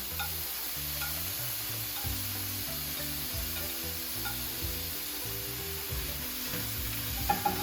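Tomatoes hit a very hot pan of shrimp and set off a steady, close sizzle and crackle that lasts throughout, with occasional stirring clinks near the end and no talking.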